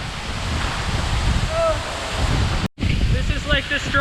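A powerful, windy waterfall at Sekumpul thunders in a constant close-up roar with wind noise on the mic, a brief gap near the end, and faint talk or calls over the rushing water.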